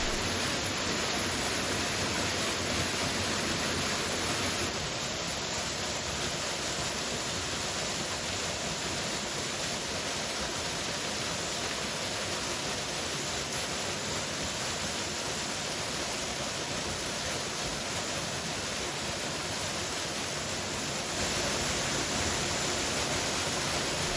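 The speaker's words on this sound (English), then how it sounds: "With each sound of rushing water, feel yourself becoming lighter, freer" A waterfall's rushing water pours in a constant, dense, hissing roar that never pauses, loud and even throughout for relaxation listening.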